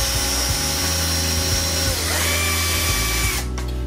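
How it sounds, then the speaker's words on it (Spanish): A cordless battery drill whines steadily at high speed while drilling holes during a Bosch Siemens washing machine door repair, loud and close, with a slight pitch change near the end as it winds down. "Si disponéis de una herramienta como esta, un taladro a pilas, mucho mejor, porque no hace falta que la máquina tenga excesiva potencia para hacer estos agujeros"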